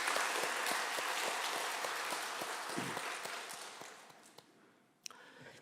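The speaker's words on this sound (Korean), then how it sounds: "여러분 다시 한번 더 박수 한번 보내실까요?" A congregation claps at a Sunday afternoon praise service in a church, broad steady applause that tapers off after about four seconds, followed by a couple of faint knocks.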